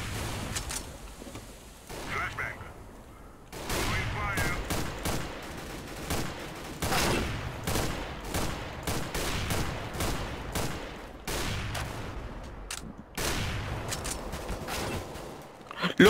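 Rapid gunfire from Counter-Strike: Global Offensive, with repeated bursts of shots and fusillades spread across the match and players' voices talking over the action.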